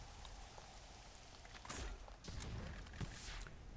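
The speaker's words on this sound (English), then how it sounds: "it's raining outside. I have a weather mod to make it more immersive." Steady rain in the DOOM video game from a weather mod, a dense hiss of raindrops on surfaces with a few dull thumps, moderately quiet, no voices.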